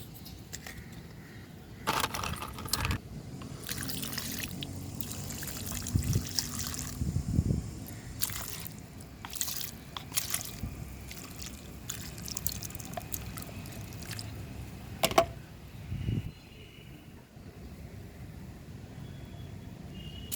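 Water poured or trickled onto organic mulch around potted plants, with intermittent splashing and dribbling bursts over a soft steady background, no speech.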